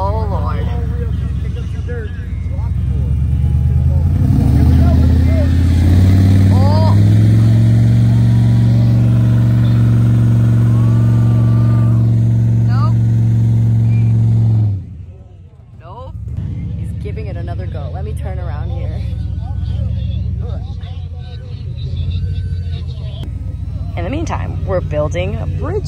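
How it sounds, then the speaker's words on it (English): An off-road wrecker's engine runs loud and steady as it backs up to bump a stuck vehicle with a doubled kinetic rope, then drops off sharply, followed by quieter engine noise with people talking over it. "he's gonna back it up now that he doubled up the rope, and he's gonna bump it"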